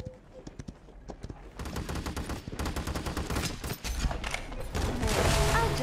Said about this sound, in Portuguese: O som ensurdecedor das balas no meu ouvido.